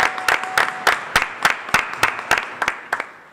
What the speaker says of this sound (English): please give a round of applause for our newest Do Good Challenge sponsor